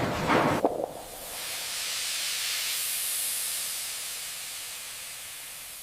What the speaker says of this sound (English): Watch the steam.